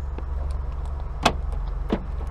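A newly bought car sits with its engine idling in a low steady hum, broken by two sharp clicks or thumps from inside the cabin.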